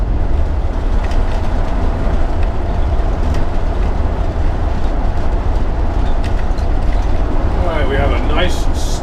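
A large RV motorhome drives on the road. A steady, loud roar of engine and road noise runs throughout, with occasional rattles and clatter from inside the vehicle.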